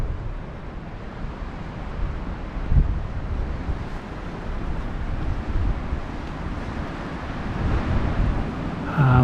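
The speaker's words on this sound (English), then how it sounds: "Ah, the wind." Wind blows hard and steady across an exposed stone ridge in the Uwharrie forest, a broad roaring buffet over the microphone with gusts swelling and falling, no voices heard.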